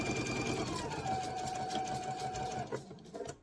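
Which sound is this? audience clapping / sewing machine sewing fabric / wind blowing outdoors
sewing machine sewing fabric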